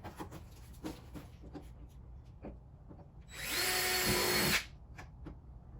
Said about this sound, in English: I'm using a 1/8 drill bit, and I'm just gonna go ahead and drill these holes